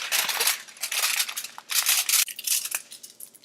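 A strip of paper is folded and creased by hand into a ring mold for fluffy Japanese pancakes, giving close, crisp crinkling and rustling bursts in quick succession.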